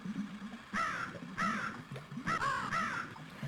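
Crow-like cawing from a bird in the 1996 DOS video game Deus, three harsh caws spaced about a second apart over a low rumbling game background, with no voices.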